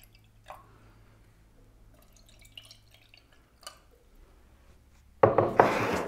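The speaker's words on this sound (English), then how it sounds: "Adding a little bit of water" Water poured into a small opaque container for a flower arrangement, heard near the end as a sudden close, loud rush, after sparse drips and soft handling noises.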